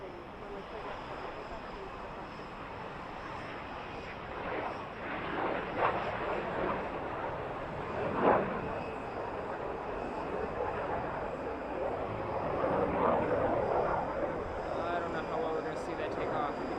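A small F-5 Tiger jet at Boise Airport gives a steady, broad engine roar throughout, swelling slightly in places, heard at a distance behind faint background noise.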